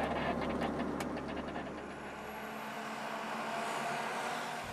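A self-driving car at a vehicle technology demonstration accelerates by itself, a steady broad rushing roar of engine and road noise that holds strong and close throughout with no voices.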